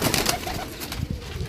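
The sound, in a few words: pigeon cooing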